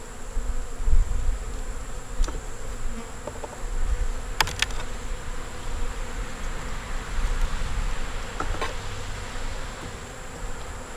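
Honeybees buzz steadily around an open hive that holds a queen, eggs, brood and stores, with a dense drone all through and a few individual bees zipping close past.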